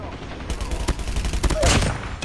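Bursts of HG 40 submachine gun fire in the shooter game Call of Duty Mobile, rapid close shots in clusters over noisy background with voices.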